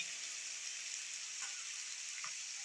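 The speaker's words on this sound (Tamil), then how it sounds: "இதெல்லாம் எண்ணெயில் வதங்கிடும்" Ginger and garlic fry in oil for an eggplant dish, giving a soft, even crackling sizzle with scattered small pops, faint and steady throughout without any talking.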